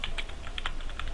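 Computer keyboard typing while writing XHTML and CSS code, a quick irregular run of light close-up key clicks with no speech.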